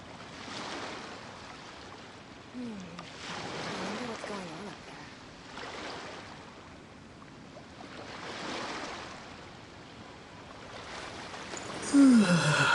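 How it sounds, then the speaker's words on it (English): Gentle ocean waves in the video game Genshin Impact wash in slow, soft swells roughly every two to three seconds, a steady hushing surf with faint background tones and a brief sharper sound at the very end. "The waves are as calm as always."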